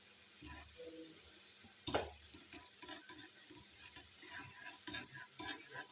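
Garlic, whole chillies and cumin tempered in leftover pakora frying oil in a kadai: a soft, steady sizzle with light stirring and scraping, plus one sharper clatter near the start, fairly faint and close.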